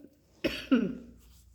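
Two sharp coughs, close and fairly loud, the second harsher and trailing off, with quiet in between and nothing else around them.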